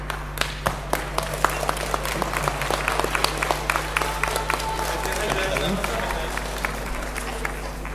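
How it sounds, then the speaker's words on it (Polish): Crowd applause for the Zagłębie Sosnowiec youth team at a trophy presentation, dense sharp claps sustained throughout over a low steady hum, with speech mixed in beneath. "Brawa dla drużyny Zagłębia Sosnowiec."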